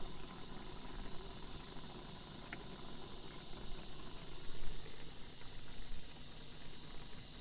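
Veggies and bacon simmer in liquid over a camp stove, giving a steady, low bubbling and hissing bed that swells slightly near the middle, with no talking.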